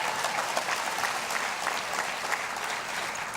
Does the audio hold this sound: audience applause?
yes